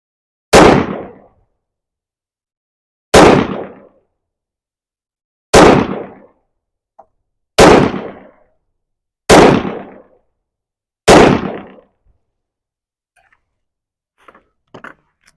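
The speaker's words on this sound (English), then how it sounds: "So I'll be shooting on the right, the PSA Rock." Six loud, sharp pistol shots from a PSA Rock 5.7x28 firing AAC ammunition, evenly spaced about 1.5 seconds apart at an outdoor range, each crack decaying quickly into near silence.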